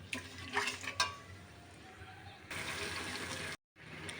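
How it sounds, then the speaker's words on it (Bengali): Cinnamon, cardamom and cloves fry in hot oil with onion for chicken pulao, a steady sizzle broken by a few stirring scrapes and clatters, then a louder surge of frying before a brief silence. "এই যে তেলের উপর মশলাটা কষানো হয়ে গেছে"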